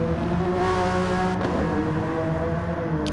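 GT3 race cars lap the Catalunya circuit in the GT Sport video game, a steady blended engine drone from several cars with a brief sharper swell partway through, loud and continuous with no talking.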